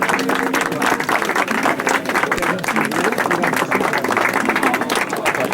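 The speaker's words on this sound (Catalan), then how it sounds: "Sí, un aplaudiment per al Joan" Audience at the 75th Aplec de Matagalls gathering applauding for Joan, a sustained burst of many hands clapping with crowd murmur mixed in, loud and even throughout.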